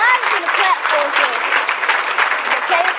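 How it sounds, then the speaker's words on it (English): Audience applause for a church youth revival program, a steady wash of clapping that fills the whole moment with a few voices calling out over it. "Y'all can clap for us."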